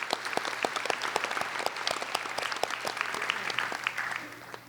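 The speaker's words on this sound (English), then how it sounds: "Again, we're going to applaud you." Applause from an audience at a Dean's List and 30-credit milestone celebration: a room full of people clapping, distinct individual claps forming a steady, lively patter that tapers slightly toward the end.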